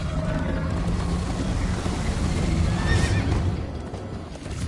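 A horse ridden at speed in Minecraft Story Mode whinnies loudly over continuous galloping hooves and rushing wind, running without pause for several seconds.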